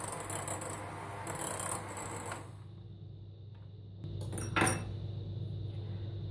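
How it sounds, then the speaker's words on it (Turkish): Cream being whipped with powdered sugar for a coconut cream layer cake, a steady buzzing mixer drone with scraping and clinking against the bowl, close and moderately loud, with no talking. "Pudra şekeriyle kremayı çırptım."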